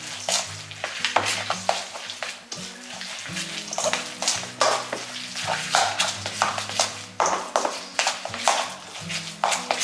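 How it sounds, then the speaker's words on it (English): Pumpkin protein snack mixture, with oats among the ingredients, being stirred and mixed by hand in a bowl, giving steady close scraping and thick wet squelching strokes in an uneven rhythm, with no talking. "now we're gonna take all this and we're just gonna give it a good mix"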